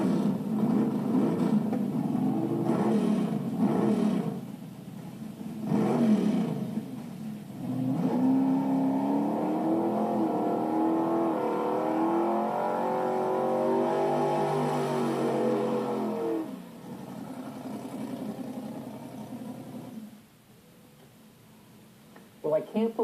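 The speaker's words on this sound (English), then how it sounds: "I just want to do one pass in the Yankee Peddler down the quarter mile" Yankee Peddler super stock AFX drag car from 1965 making a quarter-mile pass, engine revving then holding a strong steady drone for several seconds before cutting off, heard somewhat distant with a voice talking at the start.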